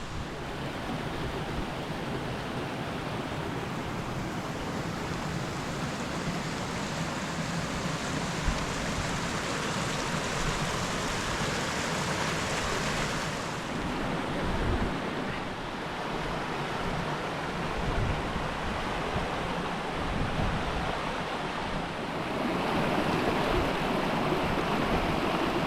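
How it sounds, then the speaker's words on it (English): Steady broadband rush of river water where three rivers meet in rugged country, a continuous full flowing roar with no let-up and no voices. "So this is the spot where 3 rivers flows into one."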